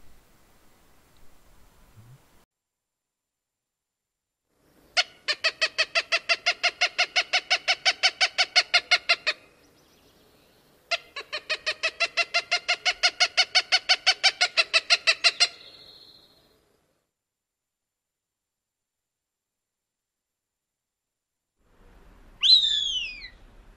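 Cooper's hawk fledgling begging for food, two long runs of rapid repeated nasal calls a few seconds apart, clear and fairly close against a quiet background, with a brief faint squeal at the end.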